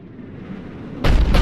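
A Cerberus cannon fires in Mass Effect 3, a sudden deep booming blast that cuts in after a second of low ambient rumble and holds loud to the end.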